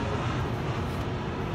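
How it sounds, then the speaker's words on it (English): Aircraft engine drone from a plane passing overhead near a Caterpillar 980H wheel loader, a steady broadband roar holding at constant loudness throughout, with no talk. "I'll let that plane pass by."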